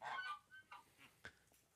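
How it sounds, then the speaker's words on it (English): Geese honk inside a barn stall on a farm, several quick nasal honks in an uneven burst, then sparser calls, faint and close, with no voices. "so we don't have to worry about listening to the geese"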